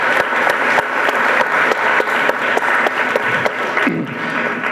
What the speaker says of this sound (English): I hope everyone will join me in a round of applause for her and thank her for her service to this community.